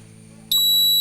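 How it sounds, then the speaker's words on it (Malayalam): A DIY water tank overflow alarm buzzer switches on abruptly partway through, a loud, steady high-pitched electronic tone over a faint low hum. "അലാം ബസറടിക്കാൻ പാകത്തിന് ടാങ്ക് നിറഞ്ഞു വരുന്നു"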